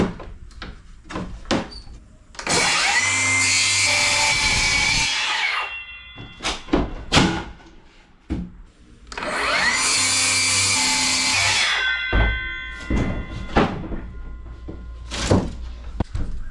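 A power saw cutting half-inch material for a custom trailer shower makes two loud whining cuts of about three seconds each, separated by clunks and knocks of handling.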